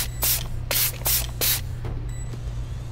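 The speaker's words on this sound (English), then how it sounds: "Spray it with the blue one." Blue spray is squirted in bursts in the virtual reality game FNAF VR 2, four loud close hisses in a steady rhythm followed by a fainter fifth, over a low hum.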